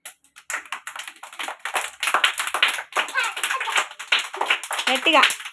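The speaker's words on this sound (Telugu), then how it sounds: "క్లాప్స్ కొట్టండి." Small anganwadi children clap in quick, uneven bursts close by. Their chatter and singing voices run through the clapping.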